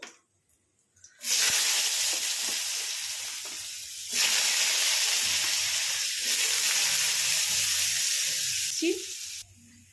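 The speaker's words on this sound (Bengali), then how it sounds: "দেখুন আলু বেশ লাল করে ভেজে নিয়েছি।" Cut potatoes and cumin seeds hit hot oil with a sudden loud sizzle after a quiet start, then keep frying in a steady hiss that swells again midway, close by, with a faint clink near the end and no speech.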